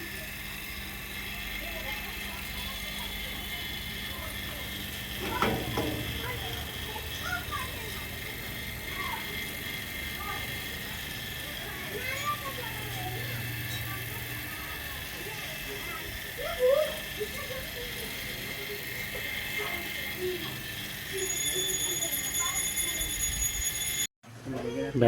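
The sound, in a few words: vacuum pump running on air conditioner outdoor unit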